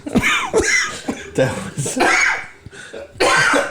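Several harsh coughs come in quick bursts, close to the microphone, mixed with breathy laughter and a few voiced sounds.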